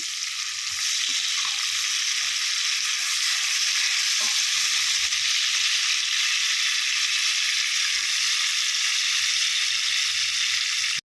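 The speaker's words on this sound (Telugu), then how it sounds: "పన్నీర్ లైట్గా మనము ఇందులో ఫ్రై చేసుకోవాలి." Paneer frying in butter in a pan gives a steady, dense sizzle for about eleven seconds, close and loud, with no voices over it.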